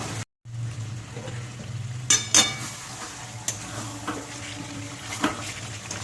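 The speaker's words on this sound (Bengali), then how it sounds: "এবার আস্তে আস্তে আমি এটা কষে নেব।" Spiced shrimp and elephant foot yam stalk curry being stirred and sautéed in oil in a pan, a steady low sizzle with a few clear scraping clinks of the spoon against the pan, close and moderately quiet.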